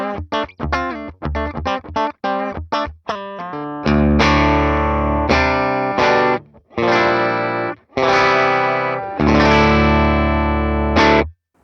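Electric guitar through a Morgan AC20 amp with the bright switch and bass boost engaged, playing quick choppy staccato notes followed by loud ringing sustained chords with short gaps between them.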